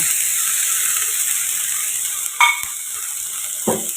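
Capsicum stir-frying in a pan over a medium flame, an even close sizzle with two brief scraping knocks near the end and no speech.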